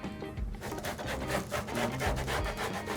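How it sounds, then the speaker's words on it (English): A marker drags corner to corner along a ruler across plastic quilt fabric, producing a close, quiet rubbing scratch with short repeated strokes and no talking. "Gonna grab out my ruler, and I'm gonna mark corner to corner."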